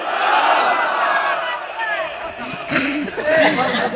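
A crowd shouts a chant in unison in reply to a call at a religious gathering, voices swelling and overlapping, loud and somewhat distant, with scattered individual shouts near the end.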